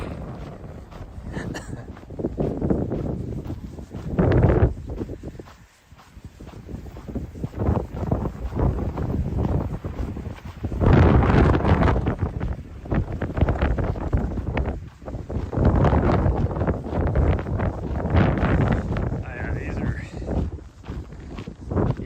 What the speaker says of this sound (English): 40 mile an hour or more gusts that are coming through